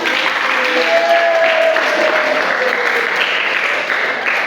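A classroom of students claps loudly and steadily after a reading, a dense continuous burst with a faint voice or tone running under it before it tapers slightly near the end.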